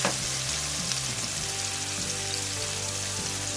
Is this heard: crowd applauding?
no